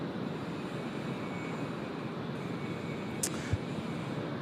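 Airliner departing Sydney Airport, a steady distant roar of jet engines held at an even level, with a couple of brief clicks near the end and no talking.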